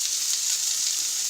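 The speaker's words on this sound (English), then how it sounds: "these potatoes and onions have been cooking this whole time, and you can hear that good nice sizzle" Potatoes and onions frying in a pan, a steady, bright sizzle heard close up without pause.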